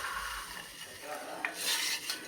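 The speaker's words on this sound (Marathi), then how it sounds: "हे छानपैकी मिक्स करून घेऊयात आणि ही वरई या दुधासोबत छानपैकी आपण शिजवून घेऊयात" Barnyard millet kheer is stirred with hot milk in a pot, a spoon scraping and swishing in uneven strokes over a faint bubbling sizzle, close by and fairly quiet, with no talking.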